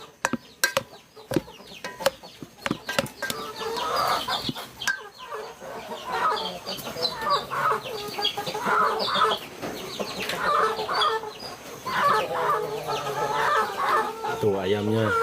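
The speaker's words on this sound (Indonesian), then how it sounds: "Tuh ayamnya ini ya, pada pengen keluar." Penned chickens cluck and squawk close by, a busy, uneven stream of calls that starts with sharp knocks and clatter, with someone speaking over them.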